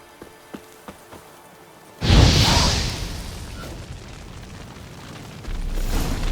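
Witcher 3 Igni fire sign: a few faint taps, then a sudden loud whooshing burst of flame that roars and fades over several seconds into a crackling, rumbling tail.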